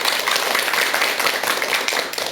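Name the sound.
audience applause welcoming lecturer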